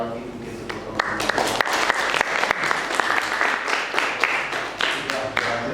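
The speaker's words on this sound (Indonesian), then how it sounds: "Kita berikan tepuk sekali lagi mungkin untuk teman-teman" Audience applause after a research presentation on a simple piezoelectric pulse-measuring device, steady dense clapping from a seated crowd throughout, loud and close, with a few sharper individual claps standing out.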